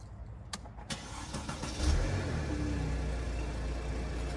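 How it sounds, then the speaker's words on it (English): A Mercedes C300 CDI W204 diesel cold-starts with a brief starter crank, then settles into a loud, rough, clattering idle close to the microphone, with no talking. "Listen to this cold start diesel"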